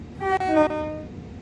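A train horn from the Brighton Main Line in Train Sim World sounds one short loud blast, clear and alone, fading over about a second.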